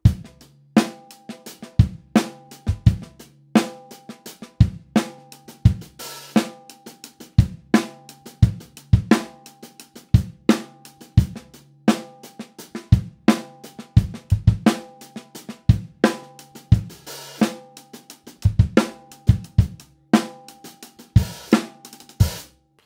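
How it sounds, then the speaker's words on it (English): Funky drum kit groove where every ghost note is played underhand on the hi-hat, giving busy, light hat taps between crisp backbeat snares and kick hits, a steady close rhythm repeating for over twenty seconds without talk. "we're gonna put every single ghost note up on the hi-hat using this underhand technique"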